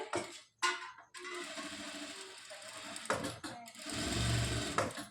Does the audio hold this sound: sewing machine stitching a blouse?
yes